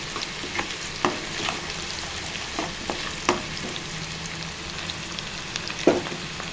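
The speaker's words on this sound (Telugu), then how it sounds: "ఇప్పుడు పచ్చిమిర్చి ముక్కలు వేసుకోవాలి" Green chili pieces frying in a pan for a broad bean and tomato curry, a steady close sizzle with scattered spatula scrapes and taps, fairly loud and free of speech.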